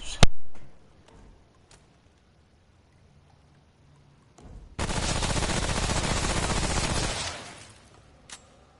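Gunfire in Remnant: From the Ashes: a sharp shot at the start, a few faint isolated cracks, then a sustained burst of rapid fire lasting a couple of seconds before a final quiet pop.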